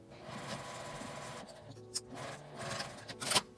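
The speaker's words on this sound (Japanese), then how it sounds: "端ミシンで縫います。" A sewing machine runs steadily, edge-stitching a fabric hair band. The motor hums at a low level with a few small clicks and rustles of cloth.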